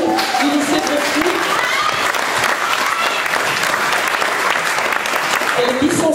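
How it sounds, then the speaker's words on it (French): Loud, dense audience applause fills the whole stretch without pause, a steady crowd clapping at an evening football event in Rennes. "Elle a applaudi ses copines du lycée de Bréquigny"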